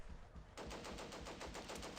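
Video game gunfire, a rapid burst of machine-gun fire starting abruptly after a short pause and continuing in a steady rattling rhythm, fairly faint.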